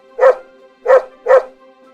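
A dog gives three clear, loud barks, evenly spaced about half a second apart, close by with no other sound around them.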